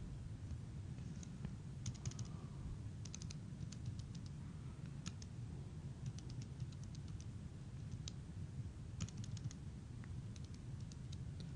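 Numbers are tapped into a calculator in a series of faint, quick key clicks, arriving in short irregular bursts over a steady low background hum.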